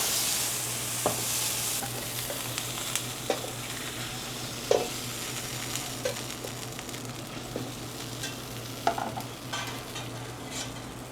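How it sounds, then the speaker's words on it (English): Red wine hits a hot pan on a busy line-cooking station, giving a steady frying sizzle with scattered stirring clicks and utensil taps, no talking. "essentially what you're doing is deglazing with the red wine so you can get all the flavor"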